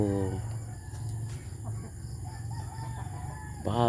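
Backyard chickens cluck and one crows near the start and again at the end. The calls come from close by over a steady low hum, with little else in the background.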